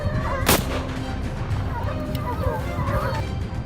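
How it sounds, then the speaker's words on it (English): A loud, sharp gunshot cracks early during a wild boar hunt in snow in Alaska, with a fainter shot later and scattered bird-like calls in the background. "The sound of gunfire echoed relentlessly."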